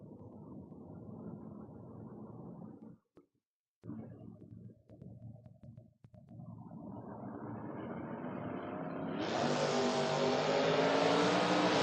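Drag race cars, a Pontiac Firebird and a Ford Maverick, rumble at the line at a door wars event, briefly cut out, then build into a loud rising roar as they launch and pull away.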